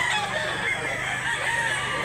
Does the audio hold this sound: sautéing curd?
no